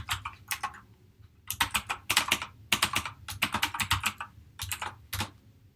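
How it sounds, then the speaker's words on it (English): Close, crisp clatter of a computer keyboard as a username and password are typed in, irregular bursts of quick keystrokes with short pauses between, no voices. "all it says I have to do is enter in my username and password"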